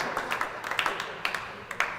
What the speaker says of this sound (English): Straight in there with the applause.